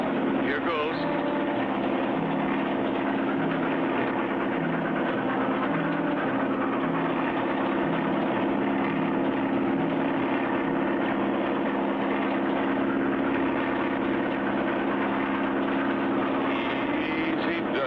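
Steady droning engine of a small propeller plane, constant and loud throughout with a low hum, no pauses.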